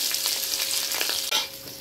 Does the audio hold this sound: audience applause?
no